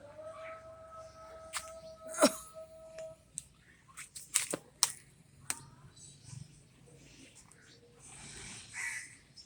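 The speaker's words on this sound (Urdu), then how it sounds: "دیکھیں بلی کے بچہ" A kitten gives a few short meows and squeaks amid soft rustles and clicks, with quiet talk nearby.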